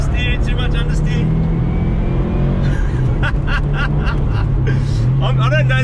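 Subaru WRX STI engine held at high revs on a race track, a loud continuous droning roar with shifting pitch that stays strong throughout, heard in-car with someone talking over it.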